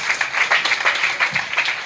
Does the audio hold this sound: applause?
yes